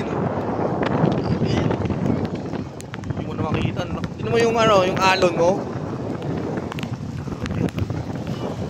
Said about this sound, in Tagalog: malakas na ng hangin. Malakas na ng ulan.